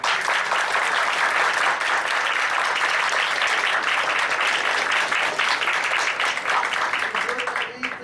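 An audience at a lecture on privacy law applauds steadily and fairly loudly for several seconds, a dense wash of many hands clapping that tapers slightly at the end.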